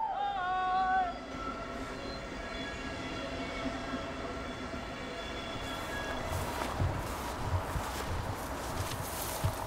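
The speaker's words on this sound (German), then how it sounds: "Jeder Zug tönt anders. Der Ölzug, der ist, wenn er leer oder voll ist," An oil tank freight train on the Gotthard line in Switzerland rolls past in a long, steady rumble of wheels and cars, with a brief high tone at the start and growing clatter near the end.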